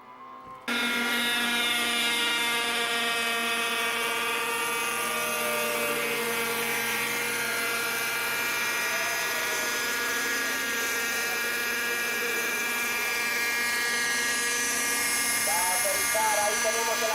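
Propeller aircraft in an old historic recording, a steady droning engine hum held throughout as it flies a complicated maneuver and comes in to land, with a commentator talking over it.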